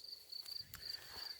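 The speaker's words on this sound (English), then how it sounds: "know if you can hear the crickets." Crickets chirp in a rapid, pulsing trill that repeats in short bursts, faint and steady outdoors with no talking.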